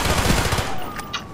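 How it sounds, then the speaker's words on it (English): A sentry gun fires in rapid bursts in the shooter Call of Duty Black Ops, a dense, loud stutter of shots for about a second that then breaks off into scattered sounds. "Stupid sentry gun."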